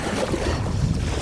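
Gusty wind sweeps over the water beside a pier, buffeting the microphone with a loud, rough, low rush that swells and dips without a break.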